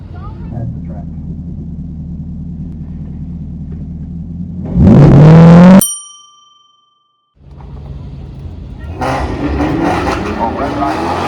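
A Chevrolet Camaro and a Ford Mustang at a drag strip, engines rumbling at idle, then a loud revving surge and a sharp ringing clang, a brief silence, and renewed engine noise.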